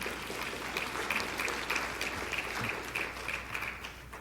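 An audience at a talk on including people with disabilities in sport and physical activity gives a steady round of clapping that holds for about four seconds, then starts to thin out.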